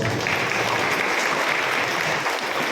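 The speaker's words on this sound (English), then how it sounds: "Give a round of applause" Steady applause from an audience at a church farewell for a parish priest in Bangalore, dense and even throughout without pause.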